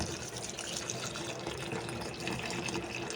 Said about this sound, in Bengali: এগুলো এখন ধুয়ে নিব